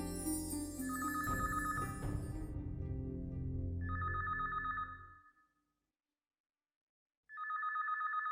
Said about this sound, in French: Le téléphone commence à sonner dès que j'essaie de m'endormir.